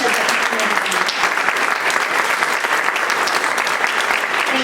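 Loud, steady applause from a seated audience at an impact update event, a dense wash of clapping that holds evenly throughout with no break.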